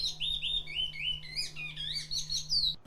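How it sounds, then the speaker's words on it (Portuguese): Wild birds sing outdoors, a continuous stream of bright, high chirps and warbling whistles at moderate distance over a steady low background hum, with no voices. "Ah, o canto das aves,"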